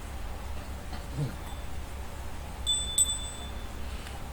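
A small bell rings twice in quick succession, a high clear chime against a quiet room background.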